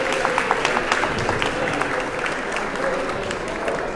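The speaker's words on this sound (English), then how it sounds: "Please give them a very big hand clap." Audience at a charity gala fundraiser applauding, dense steady hand clapping from a room full of people, loud and sustained throughout with faint crowd murmur.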